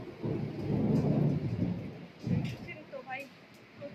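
A thunderstorm with heavy rain: deep rumbling thunder rolls loudly over a steady downpour, swelling and fading in waves with a second crack of thunder partway through.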